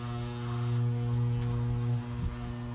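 A Fasco electric fan motor running on its high setting gives off a steady low electrical hum and buzz, close and moderately quiet, with no talking over it.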